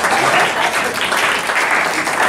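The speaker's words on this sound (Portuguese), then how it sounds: "Salve de palmas, João Estiveira." Loud, dense applause at a lunch reunion of former scouts in Silves, Portugal, continuous clapping from a gathered crowd with no pauses.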